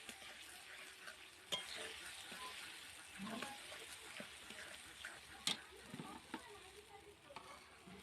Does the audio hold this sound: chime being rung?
no